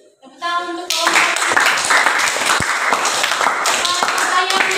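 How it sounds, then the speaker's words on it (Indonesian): Classroom of students clapping for a student group after a presentation, starting after a brief spoken phrase, then a lively burst of many hands applauding close by, with voices faintly mixed in. "Tepuk tangan untuk kelompok."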